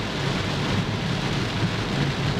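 Heavy rain pounds steadily on a moving car while driving, a loud, dense, unbroken roar of rainfall with a low rumble beneath and no voices.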